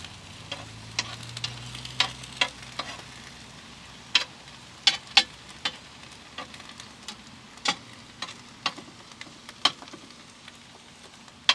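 Cornmeal-coated fish fries inside a wood-fired brick oven, a crackling sizzle punctuated by frequent sharp pops and ticks at irregular intervals, fairly close and with no talking.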